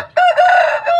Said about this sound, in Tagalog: So ito po sila mga kapanok.